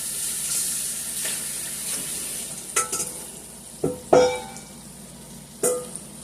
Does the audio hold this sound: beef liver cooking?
yes